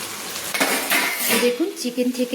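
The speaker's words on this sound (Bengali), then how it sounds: "তো দেখুন আমি চাপা খুলে দেখাচ্ছি।" A plate serving as a lid is lifted off a pan of curd (yogurt) chicken, giving a few close clinks of crockery on metal, followed by a soft simmering bubble and light scraping.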